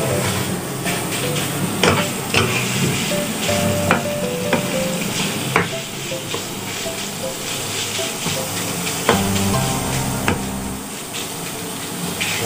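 Minced pork stir-fried with pickled bamboo shoots in a wok: a steady, loud sizzle runs throughout, with spatula scrapes and clanks against the metal at irregular moments, and no talking.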